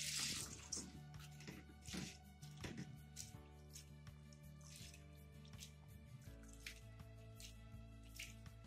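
Sago pearls are washed in water: quiet splashing, dripping and squishing sounds in a sink-like basin, with irregular close swishes of hands moving through the wet pearls.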